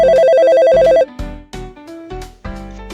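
A telephone rings with a repeated electronic trill for about a second, followed by a short burst of bright jingle-like tones marking the start of a radio fan phone-in segment. No one speaks.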